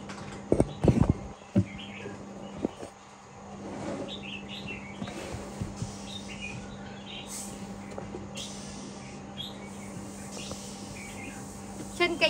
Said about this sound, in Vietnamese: Anh em nhà mình có thể sưu tầm em chim này về nghe hót